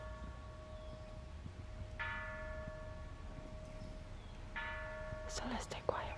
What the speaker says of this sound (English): That bell is that you have to stop what you're doing and be mindful for a second to yourself.